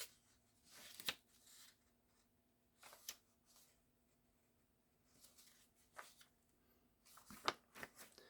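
Several soft papery rustles and flips of a page, spaced apart in a quiet room, with brief crisp swishes.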